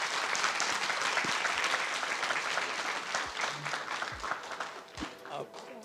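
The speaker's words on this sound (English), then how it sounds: "I request a huge round of applause for our panelists" An audience at an internet governance forum session in Taipei claps for the panelists, a dense, steady applause filling the room, with some talking mixed in.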